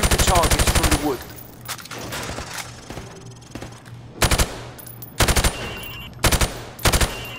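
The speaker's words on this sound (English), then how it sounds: "I want you to shoot the targets through the wood." Rapid automatic gunfire bursts ring out as targets are shot through plywood on a Call of Duty: Modern Warfare Remastered range, a long opening volley followed by several short, loud bursts separated by quieter gaps.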